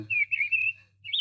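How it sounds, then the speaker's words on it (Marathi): Sparrows chirp in a few bright, high, whistly calls, a short run of chirps, a pause, then another call, fairly close over a low steady rumble beside water. "चिमणी पाखर"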